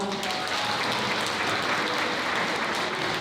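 Wedding guests applaud after a congratulatory friend's speech at a hotel wedding hall ceremony, a dense, steady wash of many hands clapping at once, loud and sustained throughout.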